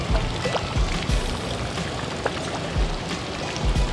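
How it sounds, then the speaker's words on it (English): Rain begins falling during a fishing trip out on the water, a steady wash of drops and splashes that fills the background without pause, with no voices. "Oh no, it's starting to rain."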